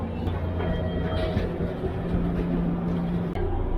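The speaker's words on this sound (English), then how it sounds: "And I believe this must be the train." A Japanese train idles at a station, a steady low rumble and hum with a faint mechanical whine throughout, close and continuous with no voices.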